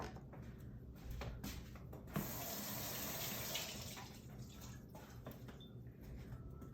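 Water runs from a kitchen tap while coriander and onion are washed, a soft trickle that swells into a louder gushing stream midway, then eases back to faint splashing.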